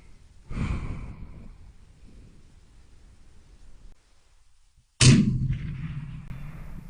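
Two loud rifle shots crack at an outdoor range, each a sharp close blast with a rolling echo that fades, spaced a few seconds apart, fired while testing an Element Optics Helix HD 2-16x50 scope.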